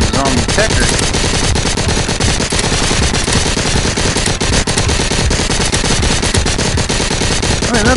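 Dense, loud gunfire in the Arizona Sunshine zombie shooter, with rapid shots crowding together without pause for the whole stretch.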